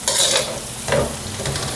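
Garlic and onion sautéing in a hot pan for palabok, with stirring scrapes and crackling sizzle in short bursts, close and fairly loud, no voices.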